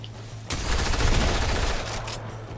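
A burst of gunfire in the video game Fortnite starts abruptly and keeps going as rapid, loud shots for about two seconds before easing off.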